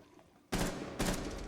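Gunfire in the tactical shooter Rainbow Six Siege: two loud, sharp gunshot bursts, the first abrupt after a quiet lead-in and a second shortly after, each with a lingering noisy tail.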